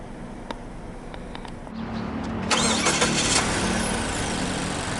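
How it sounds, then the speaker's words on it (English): A 2023 Mazda CX-5 with the 2.5 SKYACTIV-G turbo engine fires up after a push-button start: a brief starter whir, then the engine catches and settles into a steady, close idle hum. "hit this engine start-stop button to fire up the engine"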